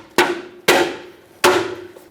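Three sharp taps seating a hubcap onto a Ford E-350 van wheel, each crisp knock ringing briefly with a metallic tone before decaying, spaced unevenly about half a second to nearly a second apart.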